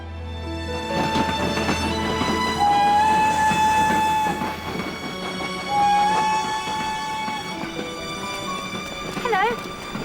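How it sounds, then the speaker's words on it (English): Train pulling into a station platform, a low steady rumble under a background music score, with a brief horn-like tone near the end. "The next train on platform 1 is the 4:50 from Paddington."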